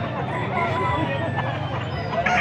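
Chickens and roosters at a poultry market in Bocaue cluck and crow over a crowded, noisy background, with several overlapping birds near and far and faint voices in the mix.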